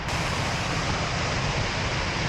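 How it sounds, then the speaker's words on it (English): Glencar Waterfall in Ireland after rain, a loud continuous roaring rush of heavy falling water, close and steady with no voices. "the advantage of the rain is that the waterfall becomes much more aggressive"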